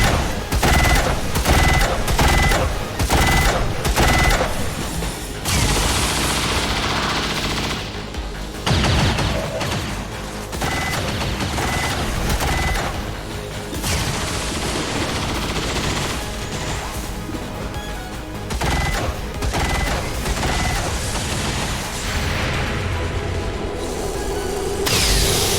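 Sustained gunfire from the video game XCOM 2: loud bursts of automatic fire and heavy shots, dense and continuous with brief gaps, crashes mixed in, close and alone without talk.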